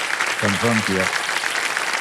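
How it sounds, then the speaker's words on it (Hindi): Studio audience applause on the KBC quiz show, a continuous spread of clapping running underneath while a voice speaks briefly over it. "तालियां बजती रहें इनके लिए"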